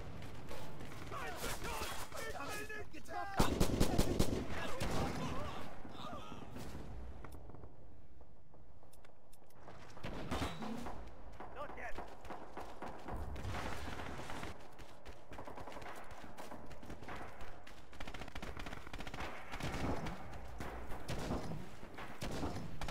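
Gunfire and explosions in the WWII shooter game Red Orchestra 2 during a bridge defence, with continuous dense rifle and machine-gun fire, heavy blasts and a loud burst around four seconds, under occasional voices.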